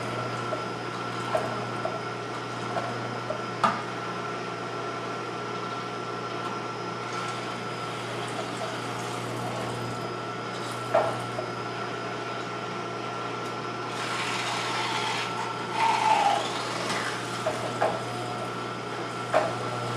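A juicer grinds ginger with a steady low motor hum and faint liquid churning, broken by a few small knocks and a brief rougher rattle near the end, with no talk.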